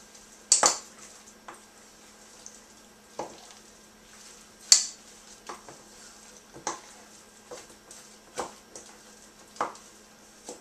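A spoon stirs a Dole Whip mixture in a bowl, giving a sparse series of soft, wet scrapes and clicks spaced irregularly, close and quiet, with no talking.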